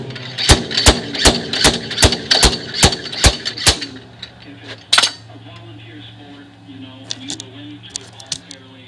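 Hammering out a wheel hub bearing on a Mercedes R170: about ten sharp metallic blows in a steady rapid rhythm, then scattered lighter knocks and clinks with faint background hum.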